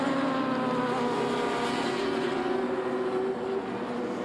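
Racing motorcycles at a Lithuanian circuit racing championship round, a continuous high engine whine holding steady as the bikes pass at a distance, loud and droning, with no talk.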